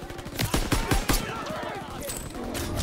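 Rapid automatic gunfire crackles in the Call of Duty: WWII campaign, a dense burst of loud shots in the first half easing into a steadier battlefield rumble, with a voice shouting over it.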